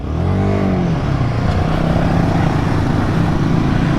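A Royal Enfield Himalayan 450 motorcycle accelerating close by: a loud, steady engine drone whose pitch climbs in the first second, then holds as a sustained, even roar.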